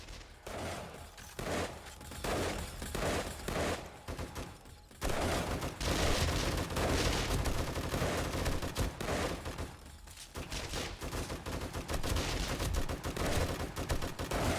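Automated base turrets blasting away at a zombie horde on horde night in the 7 Days to Die video game, rapid machine-gun bursts at first, then dense continuous fusillade of gunfire, loud and close, no talking.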